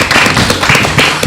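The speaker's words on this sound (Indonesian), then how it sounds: "Tepuk tangan dulu dong" A few people clapping in a small podcast studio, quick close claps with distinct sharp hits in an uneven rhythm, fairly loud and near.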